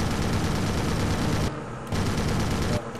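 A fighter plane's guns fire in long sustained bursts in a WWII flight game, dense rapid automatic fire, loud and close, with two brief pauses between bursts.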